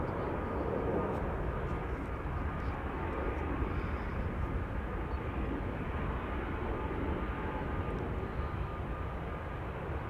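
An airplane departing Amsterdam Schiphol Airport, a steady, fairly faint engine rumble holding at an even level, distant, with a few soft clicks and no clear talk.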